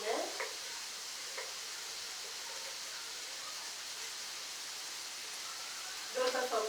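Two medium onions dropped into a hot pan, a steady broadband sizzle with faint stirring scrapes and brief clatters near the start and end, with a voice talking now and then.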